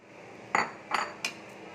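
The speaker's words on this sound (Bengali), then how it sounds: "এবার দেখো বাঁধাকপিটা আমি টিফিন কৌটোর মধ্যে দিয়ে দিচ্ছি।" Cabbage going into a metal tiffin box, three quick clinks and knocks of the container in close succession, fairly quiet with no voices.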